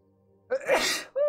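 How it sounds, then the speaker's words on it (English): A single close sneeze bursts out sharply, followed by a quick vocal exclamation. "I'm going to sneeze."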